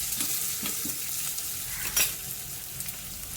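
Crushed garlic cloves roast in hot oil in a pan for a spinach and yogurt dish, making a continuous close crackling sizzle with a few light stirring scrapes and no talk.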